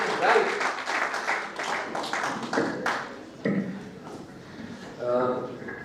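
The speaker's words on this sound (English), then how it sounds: "Can we have a bigger round of applause?" An audience at a speech competition claps in bursts of applause that fade and swell, with voices carrying over the clapping.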